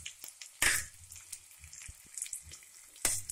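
Onion, green chili and curry leaves dropped into hot oil with cumin for Gujarati-style upma, giving short bursts of crackling sizzle with quieter spitting between them.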